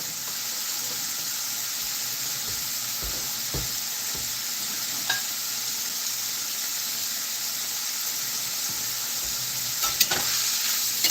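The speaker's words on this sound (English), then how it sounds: "Saute the onions and peppers to get some of the moisture off." Onions and peppers sauteing in a pan give a steady, continuous sizzle and hiss throughout, with occasional stirring clinks and scrapes and no talking.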